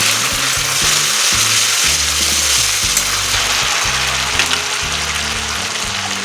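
Ginger paste hisses and sizzles steadily in a hot pan as it is stirred for a Bengali-style cabbage kofta curry, a continuous bright fry with soft background music underneath.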